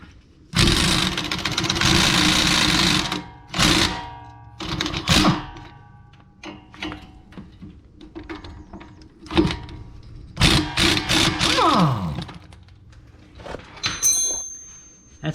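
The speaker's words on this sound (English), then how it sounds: "with an 18 millimeter wrench, we're going to come around here, grab a hold of the nut behind there" Repair of the sway bar link on a 2005 Honda Pilot using an 18 millimeter wrench on the nut, heard as a long loud whirring burst followed by scattered ratcheting clicks and clanks nearby.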